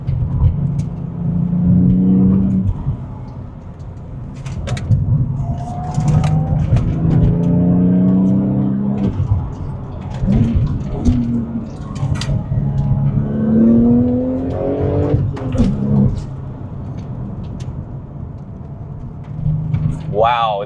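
A Porsche 996 Turbo accelerates hard, its engine note climbing in repeated rising sweeps through the gears, loud and close from inside the car, with a low rumble underneath.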